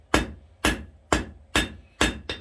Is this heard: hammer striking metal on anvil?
yes